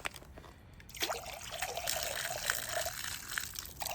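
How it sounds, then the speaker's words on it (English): Water trickling and pouring over ice on a very cold morning, a steady liquid splash running continuously after a brief quieter start, close and alone with no talking. "Put more water, just trying to get that ice little by little to unmelt it."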